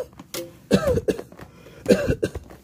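Deliberate coughs during a medical exam, two distinct rough bursts close to the microphone, each with a short throaty follow-up, separated by quiet.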